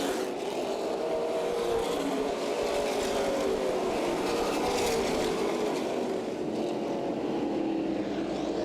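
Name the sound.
race cars on track, CRA Super Series at Berlin Raceway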